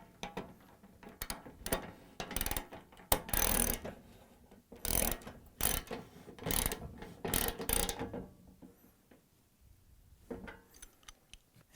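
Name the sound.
13/16 socket wrench tightening a Venturi nut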